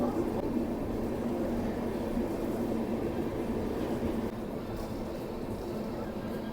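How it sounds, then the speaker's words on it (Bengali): Low, steady rumbling of an express train pulling out of Kolkata station, a continuous mechanical drone heard from inside, easing slightly toward the end. "তো ছেড়ে দিল আমাদের ট্রেন কলকাতা স্টেশন থেকে। এখন এই বেরিয়ে যাচ্ছি।"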